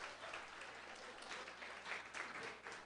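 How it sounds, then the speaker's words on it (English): An audience at a community college gathering applauds, a faint, steady wash of many hands clapping heard from a distance. "Yep, applause."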